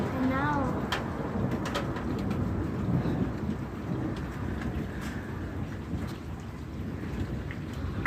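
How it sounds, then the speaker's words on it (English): Thunder cracks from a lightning storm roll under steady rain, a continuous loud wash with occasional sharper bursts, while people talk quietly nearby and a bird chirps briefly. "Just the lightning in the sky. We got some good cracks."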